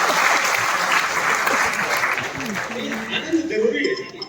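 Audience applause fills a Holi-festival comedy poetry gathering in Kolkata, a steady dense clapping that stays loud and close throughout, with some voices mixed in toward the end.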